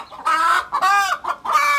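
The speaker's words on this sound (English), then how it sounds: "these are organically raised chicken" Organically raised local chickens clucking close by, several short bursts of throaty, rising clucks with brief pauses between, loud and clear with no talking.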